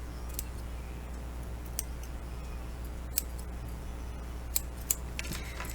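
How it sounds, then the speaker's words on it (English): Scissors trim a dangle of lace in a quiet room, giving several faint, sharp snips spaced irregularly against low background hum, with no voices. "I'm going to do a little trim down here just to make sure this is nice and clean."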